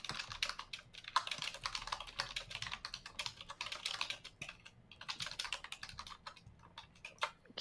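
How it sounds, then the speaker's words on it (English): Rapid typing on a computer keyboard during a game stream: dense, irregular clicks and key taps continue throughout at a moderate level, with no talking. "Nothing wrong with keyboard sounds."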